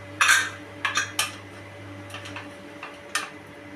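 A spoon mixes salt into fenugreek rice in a pot, several sharp metallic clinks and scrapes in an irregular rhythm, close by over a low steady hum.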